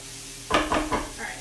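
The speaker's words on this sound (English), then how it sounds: "let me stir quickly actually" Shepherd's pie filling stirred in a pan with a spoon, three quick scraping strokes over a soft sizzle, close and fairly loud after a brief quiet lead-in.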